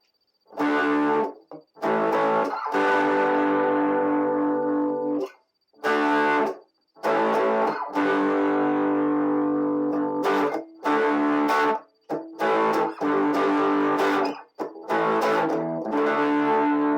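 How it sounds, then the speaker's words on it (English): Distorted IYV IP 350 electric guitar playing sustained, gritty chords in several bursts separated by short pauses, loud and close with no talking. "put on a little bit of gain so you can hear what it sounds like with some distortion on it"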